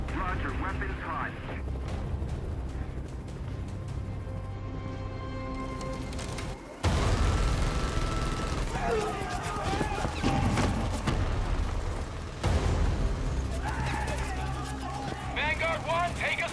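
Gunfire and explosions in the CrossfireX military shooter campaign, dense bursts of shots and heavy blasts throughout, with voices shouting and talking over the combat.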